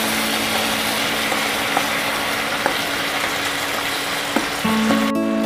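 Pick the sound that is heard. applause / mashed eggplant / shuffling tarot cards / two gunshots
mashed eggplant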